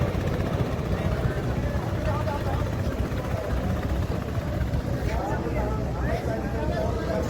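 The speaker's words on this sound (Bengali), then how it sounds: "এগুলো হচ্ছে মাছ ধরা নৌকা ওই চলে গেল" A motorized fishing boat passing on the Meghna river, its engine a continuous rumbling drone that stays fairly loud throughout, with wind and water noise around it.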